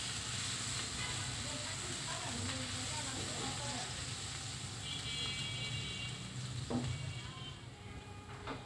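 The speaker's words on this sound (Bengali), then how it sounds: "পেঁয়াজগুলো একটু ভেজে নিচ্ছি" Onions fry in leftover oil in a pan after duck eggs were cooked in it, a soft, steady low sizzle with occasional stirring clicks, faint and heard close.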